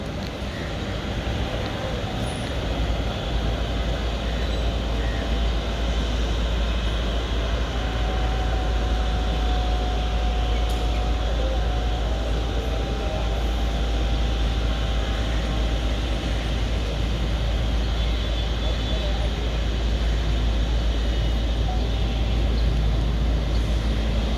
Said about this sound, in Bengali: বিমানটি একবার স্লোভাবে যেতেছে